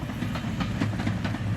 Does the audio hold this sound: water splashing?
no